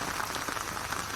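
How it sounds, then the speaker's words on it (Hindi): Heavy monsoon rain pours down steadily on and around a small village shop, a dense, even hiss of countless drops with no voices. "देखियो कितनी बड़का वर्षा भ रहा है।"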